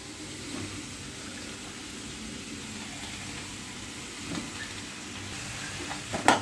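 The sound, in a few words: stirring vegetables and white pumpkin in a pot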